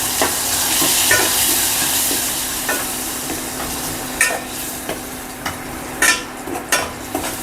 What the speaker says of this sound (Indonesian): Nah ini kita tumis sampai agak lembut-lembut gitu